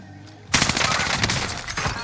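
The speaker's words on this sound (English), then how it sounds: "Taking fire here! Taking shots!" Sudden burst of rapid automatic gunfire in Call of Duty Warzone, loud and close, sustained volleys of shots crackling for about a second and a half after a quiet start.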